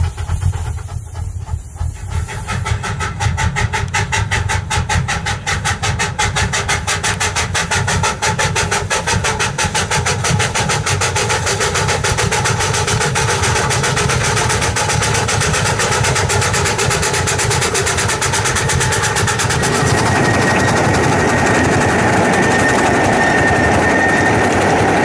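Steam locomotives with multiple engines pull a train up a curving hill, sounding as a loud, continuous roar of hissing steam and rapid, driving exhaust chuffs that hold steady for the whole stretch, with no voices.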